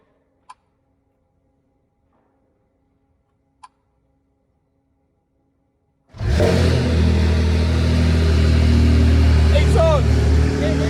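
A Ferrari 296 hybrid V6 with straight pipes fires up after several seconds of near silence broken by a couple of faint clicks, then runs very loud and close with a deep rumbling idle and slight revving.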